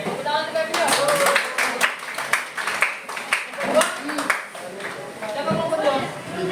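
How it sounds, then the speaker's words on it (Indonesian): Students in a classroom clap in a lively, uneven burst of applause, with chatter and voices mixed in as the clapping rises and falls. "Oke, tepuk tangan terlebih dahulu."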